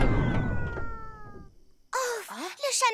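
A cartoon cat gives a short, wavering meow after a fading, muffled tonal sound, heard up close with a brief silence between.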